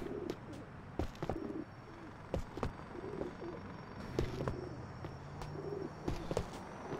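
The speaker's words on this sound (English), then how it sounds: "The heck's that bird?" A pigeon coos repeatedly in Grand Theft Auto IV, soft rolling calls recurring at a steady pace amid sharp clicks and background game ambience.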